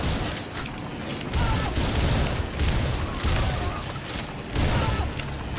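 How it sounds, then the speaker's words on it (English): Sustained assault rifle fire in the shooter game Butcher, loud dense bursts of shots booming continuously with brief gaps, close and alone without talk. "that was me shooting a dead body a second time for no freaking reason at all"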